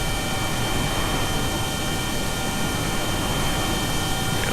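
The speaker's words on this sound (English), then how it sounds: "I have the two turbofans on the left and right, and action groups to reverse the thrust, so I just reverse the thrust on the left engine" Twin turbofan engines roar in Kerbal Space Program while one engine runs in reversed thrust and the stock hovercraft spins in place: a steady, loud, unbroken whoosh and whine that holds at one level throughout.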